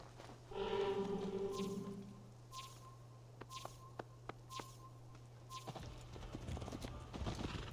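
A ridden horse clip-clops along a path in Assassin's Creed, its steady hoofbeats close and clear, with a brief whinny near the start and low ambient hum beneath.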